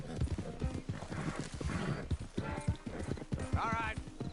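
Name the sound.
horses clip-clopping in the video game Red Dead Redemption 2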